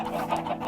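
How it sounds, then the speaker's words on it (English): A Minecraft chicken clucking, a short burst of a few quick, clear bird-like clucks, close and alone. "2 chickens spawned on my island, along with 2 pigs"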